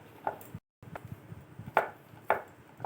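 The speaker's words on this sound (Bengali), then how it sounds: "এইভাবে আমি 4-5 বার ছুরি দিয়ে কেটে নেব" Knife cutting rolled gaja dough, a fried sweet, on a board: a handful of sharp taps and chops spaced irregularly, close and fairly quiet, with a brief silent gap early on.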